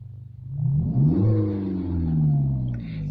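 Close 2020 Peugeot 3008 SUV engine accelerating hard in sport mode, its tone climbing through a couple of surges then holding a sustained rumbling growl, with no voices.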